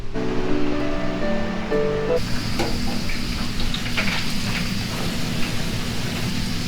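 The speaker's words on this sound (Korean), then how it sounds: "빵가루를 튀기고 있는 건데" Breadcrumbs frying in hot oil at a pork cutlet restaurant kitchen, a loud, steady crackling sizzle that runs throughout, with a tonal hum early on.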